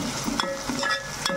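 Two spoons of freshly ground spice paste fry in a pan while being stirred: a steady close sizzle with repeated scraping strokes of the spoon, and no talking.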